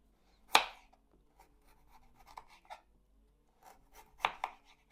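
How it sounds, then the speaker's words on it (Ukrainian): Knife slicing firm beetroot on a board: a sharp crunchy cut, a few quieter scraping cuts, then another strong chop near the end. "нарізаю такими скибочками"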